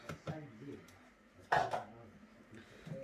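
A spatula scrapes Marmite muffin batter down the sides of a mixing bowl, giving a few short close scrapes and knocks mixed with a person talking.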